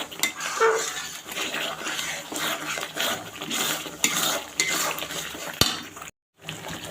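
Spice paste is stirred and cooked down in oil in a pan before meat goes in, with continuous close scraping and clattering of a utensil over a soft sizzle and one brief sharp knock.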